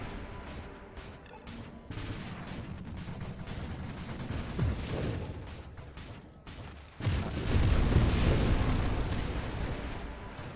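Explosions in the space shooter Nova Drift rumble and crackle in dense overlapping bursts, a steady loud roar that surges sharply louder near the end.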